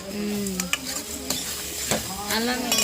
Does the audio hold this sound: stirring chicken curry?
yes